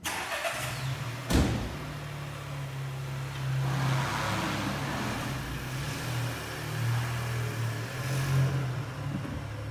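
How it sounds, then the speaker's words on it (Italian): A used 2020 VW Polo 1.0 TGI R-Line on a road test drive: a sharp knock early on, then a steady, moderate mid-range engine hum with slight swells as it pulls along, no talking. "E a questo punto salite in macchina insieme a me e andiamo anche a fare un giro di prova su strada."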